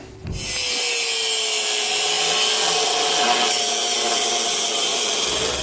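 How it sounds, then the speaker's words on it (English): A cutting wheel slices through metal on a 2019 Jeep frame during a base plate installation, a steady loud high-pitched grinding whine running continuously from start to finish with no voices. "you can use a cutting wheel like this to get it done"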